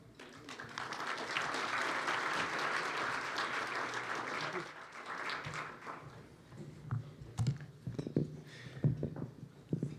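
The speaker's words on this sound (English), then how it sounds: "one more round of applause for all the talent we've seen tonight" An evening audience at a diversity celebration event at Hofstra applauds loudly for about five seconds; the clapping fades, then a voice speaks over scattered remaining claps.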